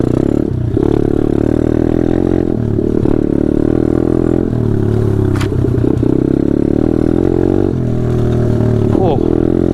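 A pit bike is ridden over a rough, rutted trail, its small engine droning loudly and steadily up close for the whole stretch, with rattling and clatter from the bumpy ground mixed in.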